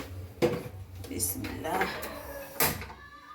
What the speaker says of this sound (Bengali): আমি এই যে মাংসটা চুলাতে বসিয়ে দিই